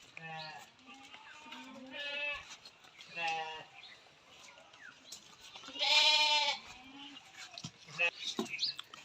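Several goats bleat in repeated calls on a goat farm where crossbred pregnant does are kept, some cries near and loud, with brief gaps and faint background noise between them.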